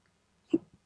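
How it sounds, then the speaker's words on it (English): A single short hiccup comes from a woman working on a junk journal, one quick voiced catch followed by a faint second blip, close and otherwise quiet. "Excuse me, hiccups again."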